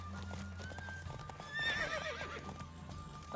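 A horse in The Witcher 3 gallops with rapid rhythmic hoofbeats, and a loud neigh rises partway through over a low droning game background.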